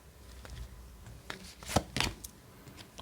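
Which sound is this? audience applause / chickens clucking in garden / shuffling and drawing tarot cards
shuffling and drawing tarot cards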